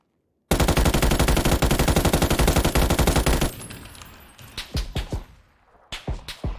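Sustained, rapid automatic gunfire from the game PUBG roars for about three seconds, then breaks into a string of separate, sharper shots with short gaps between them, loud and close.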